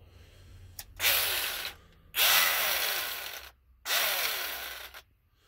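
A Hitachi 12D drywall cutter, adapted to run on a Milwaukee 12-volt battery, whirs up in three close, loud bursts of roughly a second or more each, separated by brief silences.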